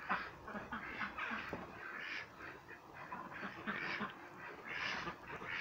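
Ducks quacking in the morning in a rural village yard, several birds calling in overlapping bursts at a moderate distance over a continuous outdoor background hiss.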